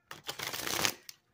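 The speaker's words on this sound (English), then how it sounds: "Excuse my shuffling." Tarot cards being shuffled by hand during a reading, a close, brisk riffle of rapid papery flutters lasting about a second, followed by a single soft tap.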